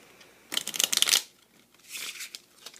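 A quick riffle of a deck of cards, a brisk fluttering burst, followed by a softer second shuffle, close by with no talking.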